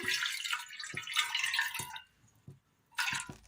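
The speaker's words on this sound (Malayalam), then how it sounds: "അടുപ്പത്തൊരു ചട്ടി വെച്ച് കൊടുത്ത് അല്പം വെള്ളം ഒഴിച്ചു കൊടുക്കാം" A little water is poured into a pan on a stove: splashy, gurgling bursts with short pauses and a few soft knocks, close and fairly quiet.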